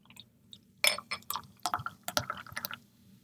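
Founders KBS bourbon barrel stout beer poured into a glass, a quiet start then a burst of splashing and gurgling liquid with small drips and clinks, close and alone.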